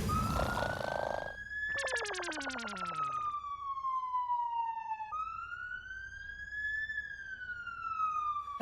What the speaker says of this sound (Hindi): अरे मेरे फोन का रिंगटोन है भाई